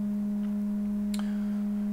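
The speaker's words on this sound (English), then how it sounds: "Let's go to a sine wave." A steady pure sine tone from a Dreadbox Hysteria analog performance VCO holds unbroken throughout, loud and constant, with faint clicks and a brief swept blip partway through.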